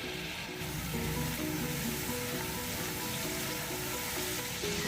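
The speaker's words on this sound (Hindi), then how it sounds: "अब हम इसमें टमाटर ऐड करेंगे, रफली चॉप किए हुए ये ऐड करेंगे।" Roughly chopped tomatoes hit hot oil in a pot for mutton yakhni pulao, setting off a loud, steady sizzle and spatter, with a repeating hum underneath and no talking.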